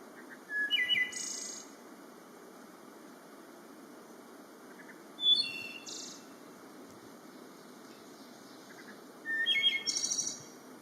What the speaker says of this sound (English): these birds are heard more than seen, and it is definitely a song to hear